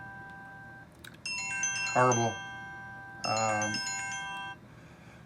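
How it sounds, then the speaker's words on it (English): A telephone rings repeatedly with a steady electronic ringtone during a livestream, two long ring bursts mixed with brief speech and a sharp noise between them, heard at moderate level over a dull background hum. "I apologize for the phone."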